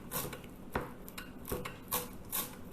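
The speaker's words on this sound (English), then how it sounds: "Chop up the green coriander" Knife chopping fresh green coriander on a board: a handful of sharp, separate chops in an irregular rhythm with faint rubbing and scraping between them, close and fairly quiet, with no voices.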